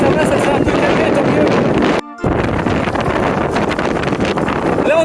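Strong wind buffets the microphone while riding a gyro-bike from Paris to Amiens, a loud, continuous broadband roar with one brief dropout midway.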